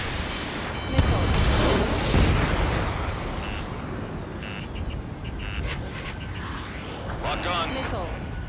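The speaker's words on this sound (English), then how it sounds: "Missile hit." Missile impacts in the jet combat game Ace Combat 7, flown in multiplayer in a Su-35S, as repeated booming explosions over continuous roaring engine and battle noise, with a voice talking throughout.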